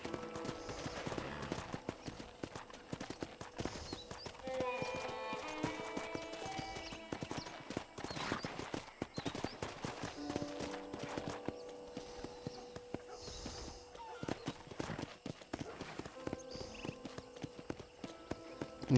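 Horse hooves clip-clop steadily in the Western video game Red Dead Redemption, a continuous rhythmic trot on a ranch, with game music, ambient sound and a brief whinny under it.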